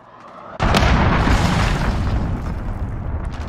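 A Call of Duty Modern Warfare enemy cruise missile strike: a sudden loud blast after a short quiet lead-in, then a heavy rumbling roar that stays dense and slowly fades over a few seconds.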